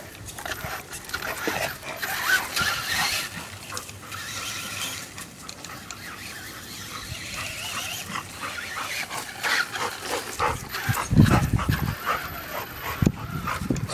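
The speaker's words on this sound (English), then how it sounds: "My dog." A dog makes close, loud barking and whimpering noises in bursts over a minute-long stretch of mechanical clatter, with a louder thump near the end; nobody speaks.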